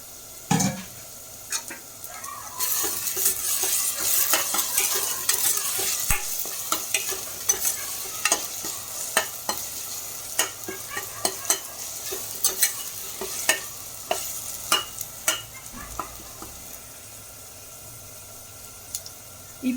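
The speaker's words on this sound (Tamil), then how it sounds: "இப்போ இந்த பூண்டெல்லாம் நல்லா வதங்கிடுச்சு" Garlic sautéing in a pan for a mutton gravy, a steady sizzle broken by repeated scraping taps of a spoon stirring, close and continuous with no talk.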